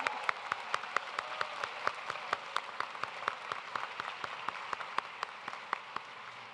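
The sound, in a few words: audience applause at graduation ceremony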